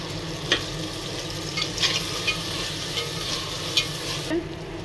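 Chopped tomatoes fry with onions in a pot for handi beef, a steady close sizzle with a few soft stirring scrapes and clinks.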